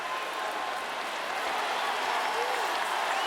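A basketball arena crowd during NBA playoff free throws between the Cleveland Cavaliers and Indiana Pacers keeps up a dense, steady murmur and rustle of many voices, broad and diffuse with no single voice standing out.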